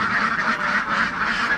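Ducks that lay green eggs quacking loudly and close by in a rapid, continuous run of nasal calls, with no talk over them.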